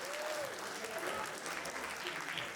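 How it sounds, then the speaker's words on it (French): Sustained applause from a festival audience for the filmmakers and crews at a short-film screening, a dense steady roar of clapping hands with faint crowd murmur, no talk. "Applaudissons une fois de plus tous les cinéastes et les équipes impliquées pour nous avoir offert les courts-métrages si bien réalisés."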